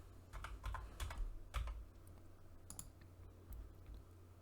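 Quick typing on a computer keyboard while naming an object in a game art drawing program, with bursts of close, crisp key clicks over a low steady hum.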